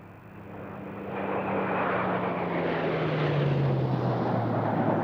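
A piston-engine, propeller-driven Supermarine Spitfire leading the nine jets of the Red Arrows in a fly-past at the RAF Fairford air show, swelling into a loud roar whose pitch slides downward as the formation passes overhead.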